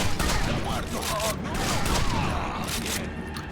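Rapid gunfire from a video game, probably a pump-action shotgun and other weapons, crackles in a dense, continuous burst at moderate loudness, with a voice talking over it.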